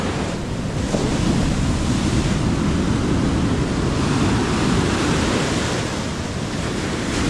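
Rough ocean surf during a typhoon roars continuously, waves crashing and churning under gusty wind with no voices.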